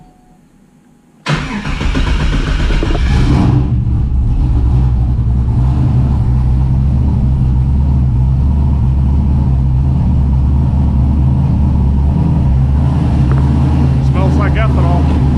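A turbocharged LS-swapped Camaro cranks briefly and fires up, then settles into a loud, close, lumpy idle with a heavy low rumble that continues steadily, with a few faint sharper sounds near the end.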